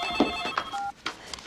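A mobile phone ringtone chirps in short repeated electronic bursts with a brief pause, close and fairly clear, with no talking over it.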